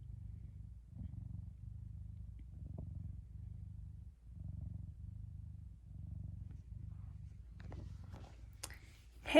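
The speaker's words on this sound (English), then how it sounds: "You purring?" A cat purring steadily up close in a closet, soft low rumbling in a slow regular rhythm, with a faint rustle near the end.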